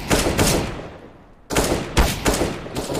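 Gunfire in Counter-Strike: Global Offensive comes as loud rapid bursts of shots, with a short lull in the middle followed by several sharp volleys.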